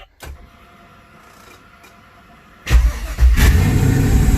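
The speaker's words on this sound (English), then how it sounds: "Fire the car up" A car engine cranks and fires up after a few faint clicks, then settles into a loud, steady idle close by, in a garage with a sensor harness being fitted.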